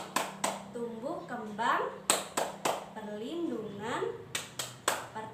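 Rhythmic hand clapping in short bursts between a woman's chanted lines, leading a children's rights clap chant for a group, with claps landing close and sharp in regular patterns around her voice.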